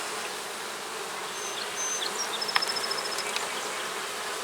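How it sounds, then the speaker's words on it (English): Honey bees buzz steadily and close up in a hive feeder, a dense continuous hum with a few louder individual bees passing through. "Lots of bees up in the feeder, but there is practically no feed, which is good."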